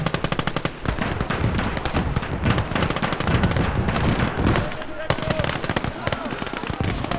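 A 20 mm cannon in the game Call to Arms: Gates of Hell – Ostfront fires rapid, loud, continuous bursts of shots, with a brief pause midway before the firing resumes.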